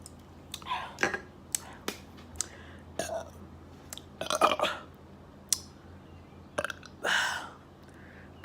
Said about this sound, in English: Those are little baby burps